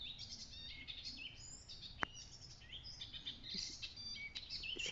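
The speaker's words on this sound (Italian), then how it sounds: "Sentite gli uccellini?" Small birds chirp outdoors near a terrace on a cloudy day, many faint high tweets overlapping in a continuous distant chorus, with one sharp click partway through and no talking.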